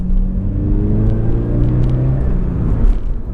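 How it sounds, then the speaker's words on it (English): A Chevrolet Camaro SS engine rumbles deeply and steadily nearby, a loud low growl with slight variations in pitch over a few seconds and no talk over it. "There's a Camaro SS."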